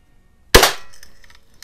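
An Air Venturi Lil' Duke lever action BB gun fires once at a metal can, a sharp close crack with a brief metallic ring fading after it, alone.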